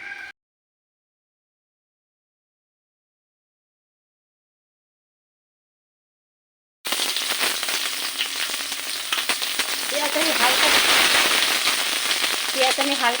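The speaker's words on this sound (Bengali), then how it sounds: "পেঁয়াজ আমি হালকা ভেজে নেব।" Chopped onions sizzle and crackle in hot mustard oil with a bay leaf, a brisk frying hiss that starts after a long silence and grows louder toward the end, with a voice speaking over it.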